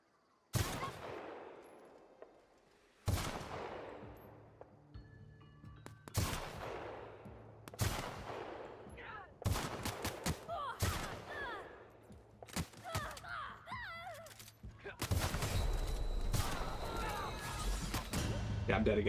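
Gunfire from an upgraded shock-damage weapon in The Outer Worlds rings out in loud, sharp bursts with decaying tails, and faster volleys and crashes come later, while a player talks over the action.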